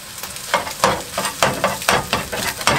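Scrambled eggs sizzling in a pan on a small stove inside a van, with a steady fry hiss broken by repeated scraping strokes of a utensil stirring, close up.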